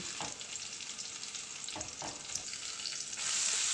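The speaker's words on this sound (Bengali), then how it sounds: "এর মধ্যে আমি রসুন কুচি দিয়ে দিলাম দিয়ে এটাকে আমি একটু হালকা ভেজে নেব" Chopped garlic lightly frying in a pan, a steady close hiss of sizzling oil with a few soft clicks of stirring, the sizzle swelling louder toward the end.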